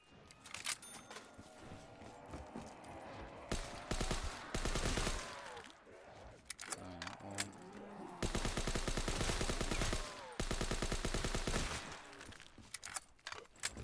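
Rapid automatic fire from a PPSH submachine gun in a custom zombies map of a first-person shooter game, coming in several loud sustained bursts with short gaps, mixed with other game effects.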